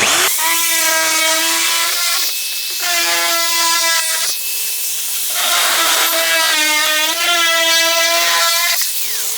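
Hand shears cutting through a VW Bug rear fender's sheet metal, three loud bursts of squealing, ringing metallic tones lasting a couple of seconds each, separated by brief pauses, close and with no talking.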